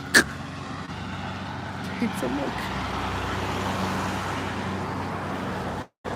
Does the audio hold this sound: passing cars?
yes